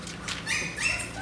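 Dogs whimpering and yipping up close, two or three short high whines in quick succession over quiet outdoor background.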